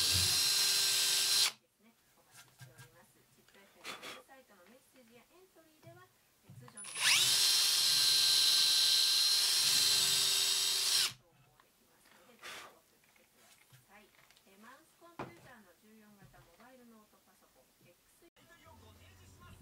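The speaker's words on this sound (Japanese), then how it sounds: "ドリルを斜めにして" A power drill whirs in two bursts while angling to widen a screw hole in a wooden desk top, a brief one and then a longer, steady one of several seconds, with a person talking quietly between them.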